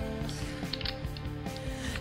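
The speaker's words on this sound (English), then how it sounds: "Do a bolt rattle test, make sure that this thing is" Metallic clicking and rattling from the bolt of a Mosin M91-30 rifle being worked, a quick series of close, mechanical clacks over a steady low hum.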